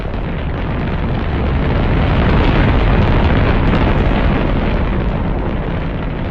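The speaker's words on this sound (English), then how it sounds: "you can see a lovely view of like real speed, how fast the rocket flies up" A rocket launch in Kerbal Space Program, a continuous loud roaring rumble of engine thrust that swells slightly mid-way and holds steady throughout, with no talk over it.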